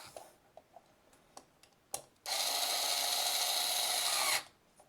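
A few light clicks and taps, then a power drill whirs loudly for about two seconds before stopping abruptly.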